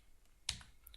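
A single short burst of computer keyboard keystrokes, a few close, sharp clicks over a faint quiet background.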